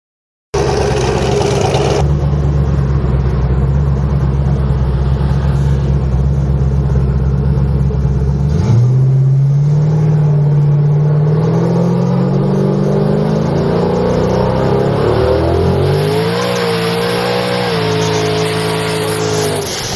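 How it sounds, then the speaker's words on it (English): A 1500 wheel-horsepower Camaro holds a long, loud tire burnout, its engine droning steadily and then revving higher in rising surges, with tire roar and squeal throughout and no talk. "it just will not stop burning the tires, dude. Damn. Look at that fucking burnout"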